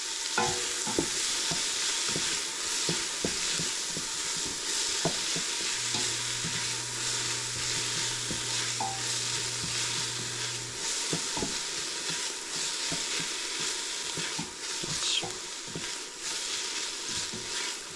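Chopped onions sweat gently in oil in a pan over lowered heat, a steady close sizzle running throughout with frequent soft stirring scrapes and taps of a utensil.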